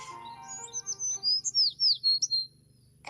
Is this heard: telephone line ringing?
no